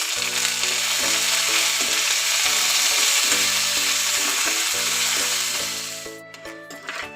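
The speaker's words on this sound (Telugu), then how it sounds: "తాలింపు మొత్తం వేగిపోయిందండి." Dried red chillies and curry leaves sizzle steadily in hot oil for a curd rice tempering, a loud continuous close frying crackle with a repeating tonal pattern underneath, fading slightly near the end.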